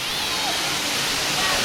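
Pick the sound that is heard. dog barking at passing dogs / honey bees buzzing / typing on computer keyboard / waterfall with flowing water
waterfall with flowing water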